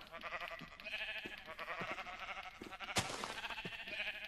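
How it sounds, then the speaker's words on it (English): A sheep in the Minecraft video game bleats in short, repeated calls, mixed with a few game taps and a sharp click, moderately loud with no talking. "in this episode, we will kill the sheep"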